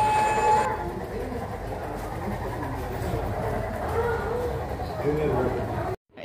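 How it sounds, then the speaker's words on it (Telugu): A small model toy train in Australia rumbles steadily along its track, a continuous rattling hum with faint chirps, ending abruptly. "ఇందాక స్టార్ట్ చేయగానే మనకి ట్రైన్ సౌండ్ ఎలా వచ్చిందో చూసారు కదా"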